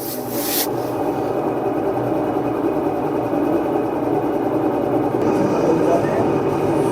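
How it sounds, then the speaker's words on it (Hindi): A fully automatic washing machine spins at rising speed while loose screws on its back cover rattle and clatter, a steady loud mechanical whir with rough metallic jangling running continuously throughout. "बैक कवर के स्क्रू लूज है, वो बोल रहे हैं छन छन"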